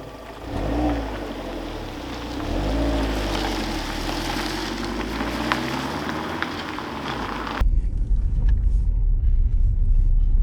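An Alfa Romeo Giulietta is on the move, a steady rumbling engine and road roar with a rising and falling pitch. Partway through it turns to a heavier, muffled low rumble.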